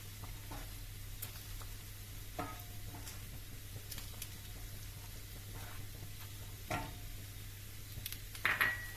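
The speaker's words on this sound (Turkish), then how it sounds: "Böyle 1-2 dakika karıştıralım." Sauce with dried mint stirred in a pan, soft scraping strokes and light clinks of a utensil against the pan at an irregular pace, fairly quiet over a low steady hum.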